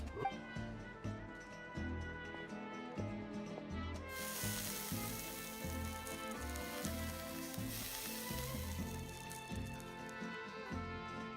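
Fish sears on heated armor in the video game Genshin Impact. A bright hissing sizzle bursts in partway through and continues over steady melodic game music.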